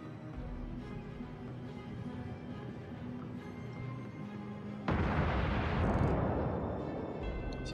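Naval gunfire in World of Warships, with a USS New Mexico battleship and a destroyer firing: a low steady engine and ambient hum, then a sudden louder burst of booming gunfire and rumble about five seconds in that continues.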